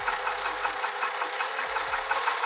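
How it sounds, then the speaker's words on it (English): A sewing machine stitching the edge of a bucket tote bag, running in a fast, even mechanical whir with rhythmic needle pulses, close and alone. "and sew that edge shut again."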